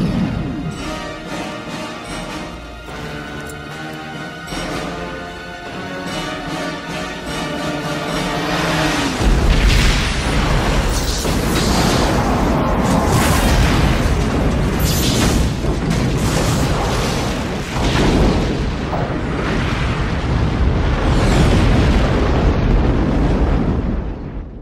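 Star Trek space battle with disruptor weapon fire and explosions, a dense, loud barrage of booming blasts and rumbling bursts that swells after the opening seconds and continues without letting up.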